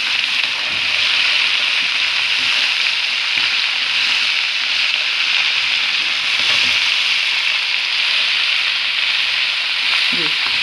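Okra fries in a pan with turmeric, salt, chilli and dried coriander while being stirred, giving a steady, loud sizzle and hiss throughout, with occasional soft scrapes and clinks of the spoon.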